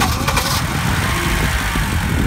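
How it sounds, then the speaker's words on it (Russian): A car engine just started and running at idle, a loud close steady rumble with a brief louder burst at the start. "Ну, работает неплохо мотор."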